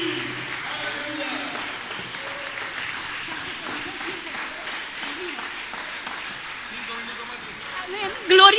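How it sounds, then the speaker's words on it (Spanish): A church congregation applauds, and steady clapping runs throughout with voices and a few shouts mixed in, swelling briefly at the very end. "Aplaudirle al Señor"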